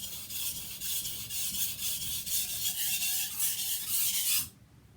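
A knife blade being sharpened on a whetstone, worked with steady pressure along the stone: a continuous gritty rasping scrape of repeated strokes, close and fairly loud, stopping abruptly near the end.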